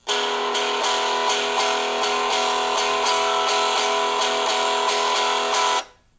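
A Loog guitar strummed in steady repeated strokes, a bright, even E blues rhythm played alone, ringing out briefly before stopping.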